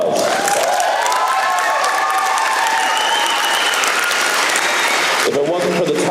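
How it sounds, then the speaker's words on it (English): A large audience at a December 2017 graduation ceremony applauds loudly and continuously, and the clapping tapers off near the end as a voice starts to speak. "Let's give him a round of applause."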